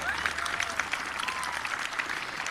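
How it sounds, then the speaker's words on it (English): Audience applause fills a high school graduation ceremony, a dense, steady wash of many hands clapping throughout at moderate level, with faint voices underneath. "Please give them a round of applause."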